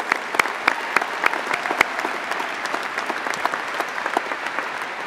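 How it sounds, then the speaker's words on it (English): Audience at a university graduation ceremony for the Faculty of Natural Sciences and Faculty of Medicine applauds the graduates, a dense, steady wash of many hands clapping with a few sharper claps standing out, sustained at an even level throughout. "Please join me in a round of applause for the graduates."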